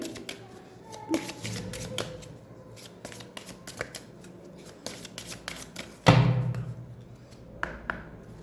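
Tarot cards are handled close up, with crisp flicks, taps and slides as cards are drawn from the deck, then a louder riffling shuffle burst near the end, with no talk over it.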